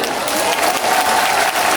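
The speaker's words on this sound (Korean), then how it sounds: "박수 한번 다시 주실까요?" Applause from a festival concert audience, a dense, steady burst of clapping from a crowd, fairly loud and continuous.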